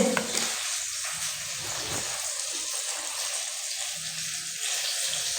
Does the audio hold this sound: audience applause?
no